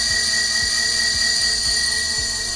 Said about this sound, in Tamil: ஸோ இது வந்து ஹை ஸ்பீடு ஹப் மோட்டார்.